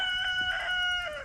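A rooster crows once from a distance in a backyard garden, a drawn-out, wavering call heard alone over a quiet outdoor background.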